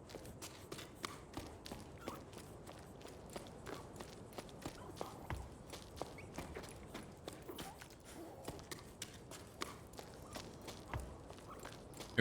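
Footsteps tread across wooden planks in the video game Jusant: a quick, even run of close, crisp knocks over faint ambient air.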